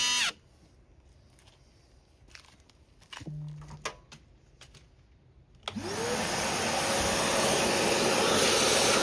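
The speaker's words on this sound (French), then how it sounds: "Un petit coup d'aspirateur pour éviter que les poils coupent partout." A vacuum cleaner switches on partway through to suck up cut hair while replacing the front suspension spheres on a Citroën C5, a loud steady whine after some brief clicks and knocks.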